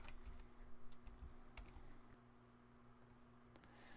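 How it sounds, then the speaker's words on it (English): Quiet clicking of computer keyboard keys as text is typed, a run of irregular taps that thins out over a few seconds against a low steady hum. "Type in some text."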